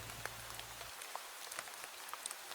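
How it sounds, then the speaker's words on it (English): Rain falls steadily in a soft, even patter with scattered brighter drops landing close by, quiet and continuous with no voices. "letting the sound of the rain pull me under"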